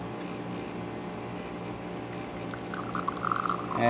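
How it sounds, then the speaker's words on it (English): A Jura espresso machine hums steadily as a thin stream of espresso runs from its spouts into a cup, with a soft liquid trickle rising toward the end. "nice steady stream coming out of the spouts"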